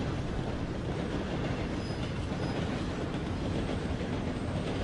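Steam locomotive train in Red Dead Redemption 2 rolling steadily, a dense continuous rumble with clickety-clack wheel noise and faint high squeals, loud and near throughout.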